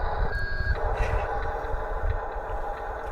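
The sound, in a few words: Huina 1598 RC dump truck engine sound module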